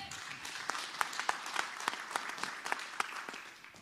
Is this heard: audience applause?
yes